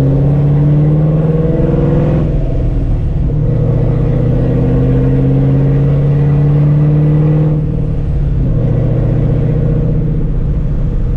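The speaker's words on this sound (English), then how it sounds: "I miss this idle with the centrifugal supercharger." Supercharged 2004 Ford Mustang GT V8 with a centrifugal supercharger, heard from inside the car as a loud, deep engine drone that rises and settles through gentle throttle changes, with no voices.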